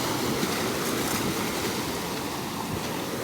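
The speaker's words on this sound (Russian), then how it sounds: "И одна за одной вон идут большие волны." Large sea waves break on the shore of Sakhalin Island in a continuous loud, close roar of surf with no pause or voice.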